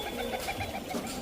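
Domestic country pigeons coo in soft, repeated throaty pulses, close and steady over a faint background hiss.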